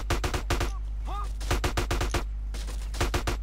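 Rapid gunfire from GTA San Andreas fires in quick repeated bursts of sharp shots, close and loud, with a short pause in the middle and a steady low hum underneath.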